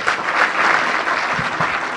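Audience applause at an awards ceremony, a dense steady patter of many hands clapping for two seconds, fairly loud and close, with no voices over it.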